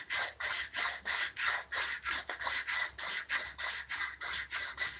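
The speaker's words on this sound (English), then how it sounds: "I'm going to clean these grinders" Grinders are scrubbed clean with a rapid, steady back-and-forth rubbing rasp, about two strokes per second, close up and continuous with no talking.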